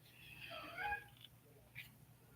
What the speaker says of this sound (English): I got a cat in the basement somewhere.